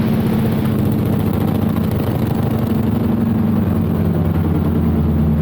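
A North American AT-6 Texan's radial piston engine runs steadily during its pre-flight run-up, a loud, constant, close-up low rumbling drone with no talking.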